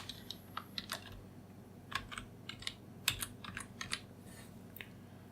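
A computer keyboard clatters through quiet, irregular bursts of keystrokes as a full name is typed in, close and soft over a low background hum.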